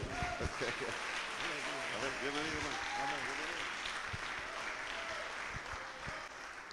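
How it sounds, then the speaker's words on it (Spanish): Steady applause from a church congregation fills the clip, with voices calling out over the clapping throughout. "usted le da un aplauso al Señor porque Él es bueno"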